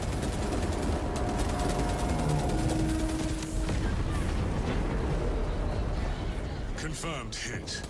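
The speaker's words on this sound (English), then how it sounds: "Detonate the charges now!" Charges detonating in the Warhammer 40,000: Space Marine 2 video game, a dense, sustained roar of explosions and artillery-like blasts that stays loud throughout. Battlefield din and voices run underneath.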